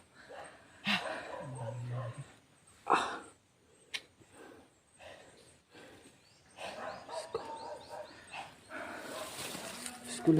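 Dogs bark and yip intermittently in short bursts, some near and some farther off, with whimpers and occasional voices mixed in among outdoor noise.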